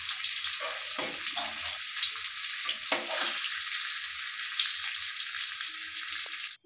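Eggplant pieces fry in hot oil over high heat for a fish curry, giving a steady, loud broadband sizzle with a few soft stirring clatters and no voices.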